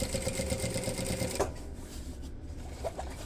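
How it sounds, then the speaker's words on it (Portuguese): Sewing machine running steadily for about a second and a half while stitching down a handbag lining with a narrow presser foot, then stopping, leaving faint handling noises and a quiet room. "agora eu vou passar uma costurinha pra arrematar isso aqui, rebater isso aqui"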